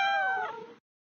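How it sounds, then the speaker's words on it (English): A cat meows once in a math learning video game about counting, a single clear, close, descending cry lasting under a second, then silence. "Poor kitty cats stranded up the tree."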